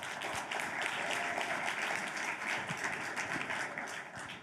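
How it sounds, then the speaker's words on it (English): Full audience applause at a climate and food systems innovation event as guests walk onto a stage, a dense, sustained roar of clapping with a few sharper individual claps poking through. "Please give them a round of applause."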